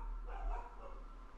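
A dog barks and yips from downstairs, muffled and somewhat distant, a few excited bursts over a low background hum.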